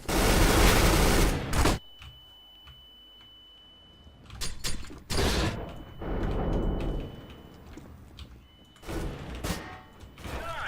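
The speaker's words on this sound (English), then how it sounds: "Throwing a grenade." A grenade thrown in Counter-Strike: Global Offensive during a competitive match: loud bursts of gameplay noise, then a quieter stretch with sharp clicks and thumps, followed by further bursts of game sound.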